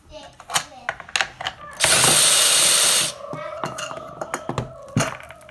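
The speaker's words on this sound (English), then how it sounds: "So I'm gonna put this on my drill." A power drill whirs loudly for about a second tightening screws in a chair, surrounded by clattering taps and knocks of handling tools and hardware close by.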